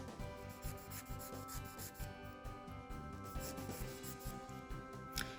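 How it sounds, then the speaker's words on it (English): A Bohemian glass nail file strokes back and forth across an almond-shaped fingernail, a quick, rhythmic raspy rubbing heard close up and fairly faint, steady for the whole stretch with no voices. "So I'm actually going to keep filing. I'm going to file it in."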